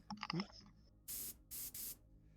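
An airbrush gives three short, bright hissing bursts of paint spray onto a small creature model, following a brief moment of faint clatter.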